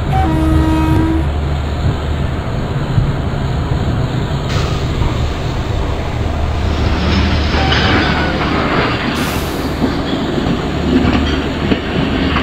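A simulated Duronto Express train rolls into a junction loop line in the Open Rails game, with a loud, steady rumble of wheels and engine, a horn blast near the start and continuous rail noise throughout.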